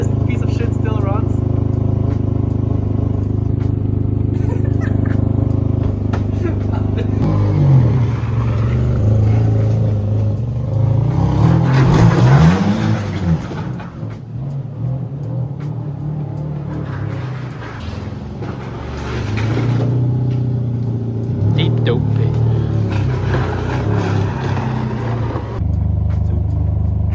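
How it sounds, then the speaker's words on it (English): A running car engine rumbles steadily throughout and swells into a louder rev in the middle, heard close with voices talking over it. "this piece of shit still runs."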